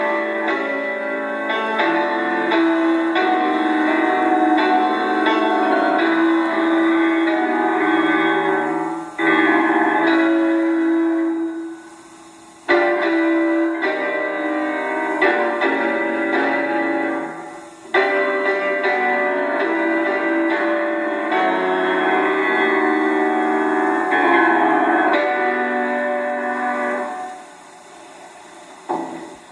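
Piano performance of Liszt's Don Juan opera fantasy, with dense, resonant chords and sustained passages played loud and continuous for about half a minute, pausing briefly between phrases.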